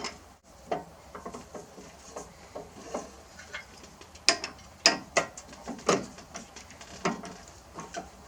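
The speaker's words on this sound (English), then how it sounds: "But first, we need to change drill bits." Drill bits being changed in a drill chuck give a series of quiet ratcheting clicks and mechanical rattles, irregular taps spread over several seconds, close and fairly faint with no talking.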